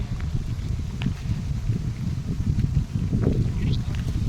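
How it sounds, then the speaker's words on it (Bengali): Continuous low wind rumble blowing across the microphone outdoors near a drumstick tree, steady with slight gusting and faint distant sounds beneath. "আজকে কি সুন্দর হাওয়া চলছে।"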